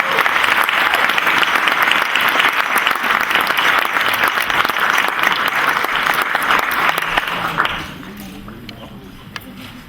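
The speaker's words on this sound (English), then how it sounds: "The legendary Norm Clark, everyone. Big round of applause." A crowd gives a big round of applause for an introduced guest, loud sustained clapping for several seconds that drops off abruptly, leaving a few stray claps and quiet room noise.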